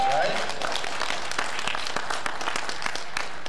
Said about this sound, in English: I like that clapping from Murray.